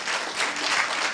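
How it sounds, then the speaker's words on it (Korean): Audience applause for teachers and students after a school presentation at an international academy admissions event, a steady wash of many hands clapping throughout, moderately loud and even with no voices on top. "발표회 준비한 저희 선생님들하고 학생께 한번 박수 한번 쳐주십시오"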